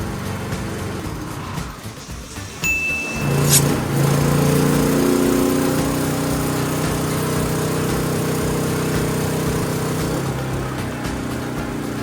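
A Philking 4200 generator cranks and catches after a short pause, then settles into a steady, loud engine drone with a constant hum running to the end, no voices.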